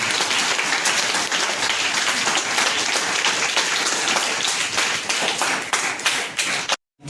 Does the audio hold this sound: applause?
yes